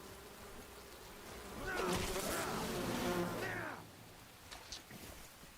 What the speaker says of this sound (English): There are like 6 billion bees that spawn over here.